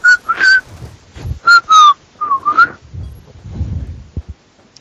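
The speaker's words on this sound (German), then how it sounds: "Hör auf zu pfeifen, ohne Scheiß, nicht lustig." Someone in Black Ops 2 voice chat whistles in short, bright, bird-like phrases with gaps between them, loud and close, followed by soft rustling and low thumps.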